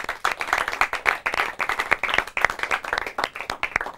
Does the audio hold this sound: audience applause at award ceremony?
yes